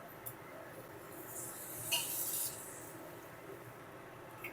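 Water poured into a hot pan of spiced potato curry makes a soft, brief hiss and sizzle that swells for about half a second and then fades back into quiet background noise.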